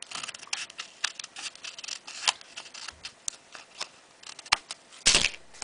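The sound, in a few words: cutting the bottom off a 3D craft piece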